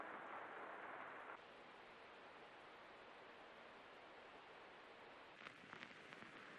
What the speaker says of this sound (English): So in the ambience you've got the rain sounds, tape sound and vinyl sound, which is really nice background noise for lo-fi tracks.